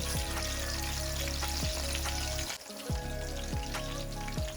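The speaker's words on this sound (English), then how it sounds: "So I'm gonna fry them for 4 minutes on each side." Fish sizzling steadily in hot oil in a pan for Jamaican brown stew, a continuous close frying hiss with faint periodic clicks and a brief dip midway, no talking.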